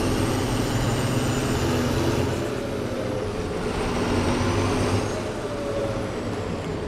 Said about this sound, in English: There's the turbo whine.